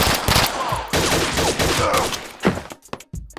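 Rapid bursts of automatic gunfire from a VR shooter game come loud and close, clustered into several volleys with short gaps, while a player's voice cuts in briefly.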